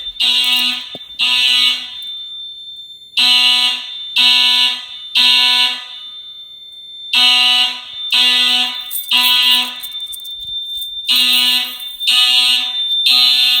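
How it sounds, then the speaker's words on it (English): Simplex horn strobes sound in sync during a new fire alarm system test, blaring loud buzzy horn blasts in a repeating temporal pattern of three, with a steady high electronic tone running beneath. "These simplex horn strobes are in perfect sync."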